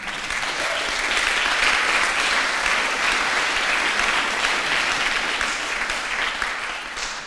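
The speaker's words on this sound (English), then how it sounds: "That alone deserves an applause." Sustained applause from an awards ceremony audience, a dense wash of many hands clapping steadily and loudly for about seven seconds with no voices over it.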